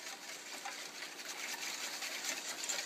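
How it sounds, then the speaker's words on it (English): Sauce for Korean-style spicy braised chicken being whisked into water, giving a steady, close, continuous liquid swishing and sloshing with no talk. "we're going to take our whisk, and we're going to whisk this beautiful sauce together,"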